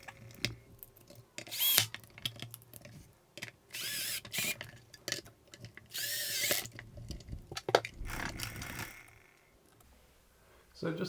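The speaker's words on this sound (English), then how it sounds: "so I'll just drill these in" A power drill drives screws into a Thrustmaster T-GT wheelbase during a cooling-fan repair, whirring in several short bursts with ratcheting clicks between them and quiet handling noises in the pauses.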